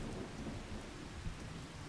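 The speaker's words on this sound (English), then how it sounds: "I really need this rain to stop" Rain pours steadily in a farming survival game while low thunder rumbles beneath it, a continuous, quiet storm with no speech.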